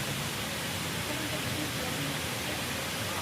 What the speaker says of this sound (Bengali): দেখো এখানে ঝর্ণা